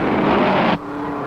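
Race cars at the 1951 Indianapolis 500 roar past at speed in a loud, dense rush of engine noise that cuts off sharply partway through, leaving a fainter background drone.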